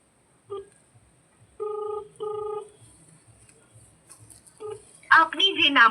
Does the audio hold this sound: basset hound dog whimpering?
no